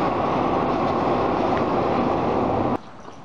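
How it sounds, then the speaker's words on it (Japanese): A Hanshin Railway express train rushes past Himejima Station beside a park, a loud, steady roar of wheels and carriages close by that cuts off abruptly near the end, leaving quiet street ambience. "ちょうど今電車が通過してきます。急行ということになります。"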